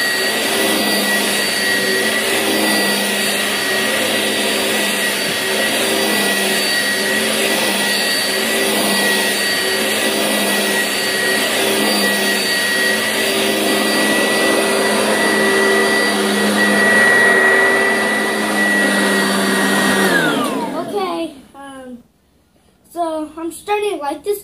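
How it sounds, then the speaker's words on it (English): A loud, steady Oreck XL2 vacuum cleaner whine runs close up for about twenty seconds, then cuts off abruptly, followed by a few spoken words. "So let's get the vacuum to work."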